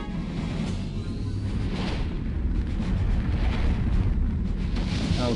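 A fire attack in the Septerra Core role-playing game roars as a dense, loud, continuous rumbling blaze, steady and full throughout with no speech over it.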